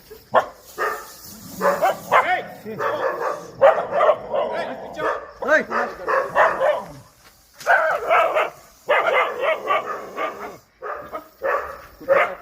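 A dog barks repeatedly at a snake in bursts of sharp, close barks mixed with yips, while people talk excitedly nearby.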